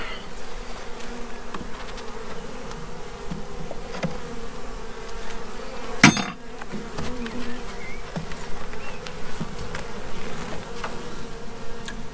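Honey bees from a drone-laying colony buzz continuously in a dense, steady swarm drone while the hive is dissolved, with one sharp knock or clunk partway through and no talking.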